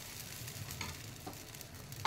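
Oil-free dosa batter cooking on a hot pan, a soft steady sizzle with faint crackles, quiet and close, ending in a brief louder knock.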